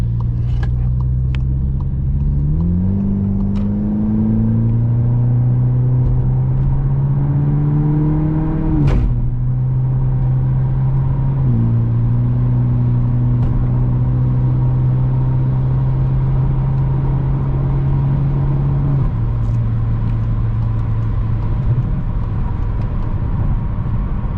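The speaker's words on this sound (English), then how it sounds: "that should give you a good idea of the acceleration that this thing has" A 2019 VW Tiguan fitted with a blow-off valve accelerates hard down a ramp, its steady engine drone climbing in pitch through several upshifts, loud and continuous with no talk.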